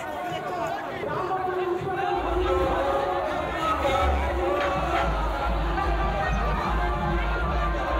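A crowd at a Ram Navami procession in Jalpaiguri fills the street with loud, continuous chatter and hubbub, and a deep, rumbling drone joins partway through and continues to the end.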